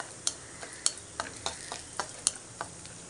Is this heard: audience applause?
no